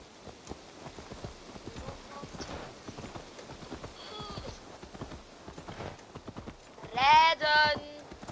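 Horse hoofbeats while riding in the video game Assassin's Creed Valhalla, a steady clip-clop rhythm under ongoing voices, with a short loud horse whinny near the end.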